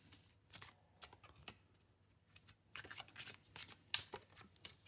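A deck of Symbolon tarot cards is shuffled close by in quiet bursts of riffling and flicking, with irregular clusters of crisp card slaps and short gaps between them.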